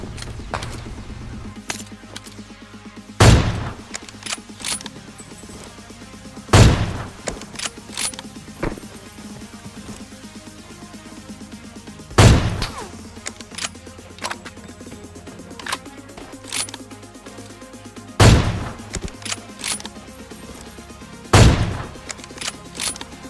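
Single gunshots ring out in PUBG Mobile, six loud sharp cracks spaced a few seconds apart over a low, steady game backdrop.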